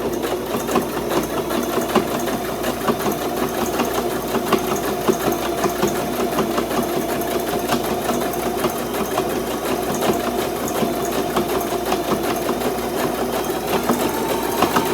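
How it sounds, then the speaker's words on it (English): A sewing machine runs steadily and fairly loud for the whole stretch, stitching a coiled rope basket alongside its handle at a slowish pace, its motor hum and rapid needle chatter continuous with no voices. "we just continue sewing alongside that handle"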